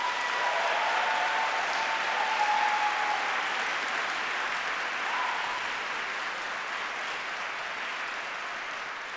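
A large audience applauds steadily for several seconds, a dense even wash of clapping that slowly tapers off.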